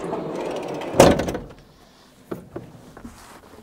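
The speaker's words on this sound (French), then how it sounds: "J'ai ouvert la porte un peu brutalement." The sliding door of a Seres EC35 electric van is opened abruptly, giving a sharp, loud mechanical thud and rattle followed by a short slide, then a few faint clicks and knocks in a quiet interior.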